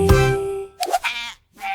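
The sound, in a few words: sheep bleating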